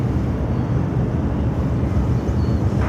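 A Delta heavy airliner takes off from runway 25 right at Phoenix airport, heard as a steady, loud broadband engine roar that holds evenly throughout with no voices.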